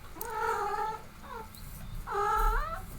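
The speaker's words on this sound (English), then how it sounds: "My cat's saying hi." A pet cat meows three times, drawn-out and wavering, close by over a faint steady background hum, in the middle of a modded ARK survival gameplay session.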